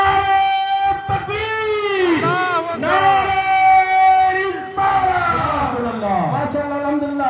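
A crowd at a mosque foundation-laying program responds loudly to a Nara-e-Takbir chant, with sustained voices rising and falling in long drawn-out shouts over several seconds.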